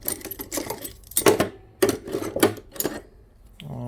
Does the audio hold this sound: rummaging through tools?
yes